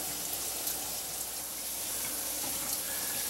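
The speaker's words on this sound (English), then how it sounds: "we're going to just let that water run for a bit" A newly installed kitchen sink faucet runs steadily, giving a constant broadband rush of water that stays even throughout, with no talk.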